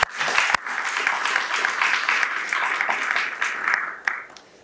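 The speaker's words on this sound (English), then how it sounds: "Give them a round of applause, please." Audience applause at a university State of the University address, a dense, steady round of clapping from a large hall that swells, then tapers toward the close.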